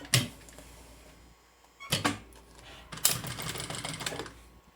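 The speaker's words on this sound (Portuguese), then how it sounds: "E vou costurando aqui até embaixo." A sewing machine stitching along a binder cover runs in short bursts, a loud close whir and rattle that stops, restarts and then carries on steadily to the end.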